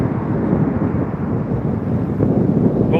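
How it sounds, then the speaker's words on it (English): Wind gusting steadily outdoors, a loud broadband rush buffeting the microphone throughout with no other sounds. "It's definitely getting a little windy."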